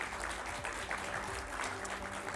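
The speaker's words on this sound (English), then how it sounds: "So for all of you, perhaps get a round of applause," Applause from an evening audience for the panelists of a public forum on health care in Newfoundland and Labrador, a soft, steady patter of many hands that sounds distant and continues evenly for a couple of seconds.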